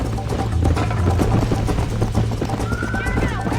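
Horse hooves clip-clopping at a gallop in the Western video game Red Dead Redemption, a steady rapid beat under game ambience, with a rising whistling tone near the end.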